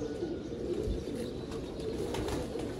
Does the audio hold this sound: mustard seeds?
no